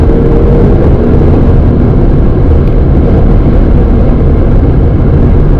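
A car engine roars steadily and loudly from inside the vehicle as it corners and gears down to second, a dense constant drone with no audible talk.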